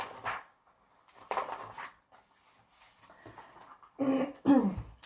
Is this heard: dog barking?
yes